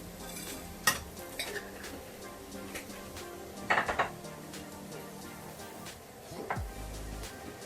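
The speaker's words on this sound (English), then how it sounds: "Give it a bit of a stir." A spoon stirs garlic and chili flakes in a pot taken off the heat, giving soft scraping with a few sharp metallic clinks and knocks over a faint background sizzle, close and fairly quiet.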